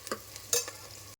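Onions browning in a pan for pulao, a quiet sizzle broken by a few spatula scrapes and stirring strokes, with one louder scrape near the middle before the sound cuts off abruptly.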